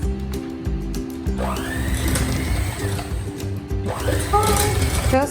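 An electric mixer beats choux pastry dough for chocolate eclairs at medium speed, a loud, close motor whir with rhythmic pulsing and rising pitch sweeps as the beaters work.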